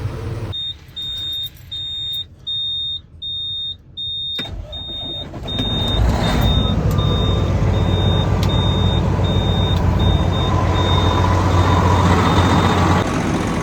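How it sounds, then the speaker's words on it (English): A truck's air system builds pressure after a leaking lever is replaced: regular warning beeps chime at first, then the engine rumbles steadily and loudly as the air compresses, with the beeping continuing underneath. "I'll let this thing air up and check for leaks."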